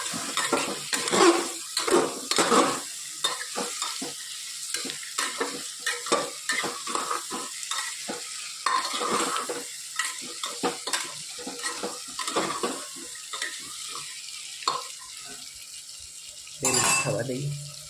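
Washed potatoes sizzle in a hot pan for a vegetable sabji while a spoon scrapes and stirs them in repeated strokes, close and clear, with a brief louder clatter near the end.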